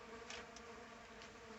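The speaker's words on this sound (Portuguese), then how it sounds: "Olha quantas abelhas." Stingless bees buzz around hive boxes in a meliponary, a faint, steady drone with no talking, a few brief swells as individual bees pass near.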